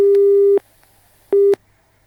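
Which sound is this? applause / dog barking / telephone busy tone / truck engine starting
telephone busy tone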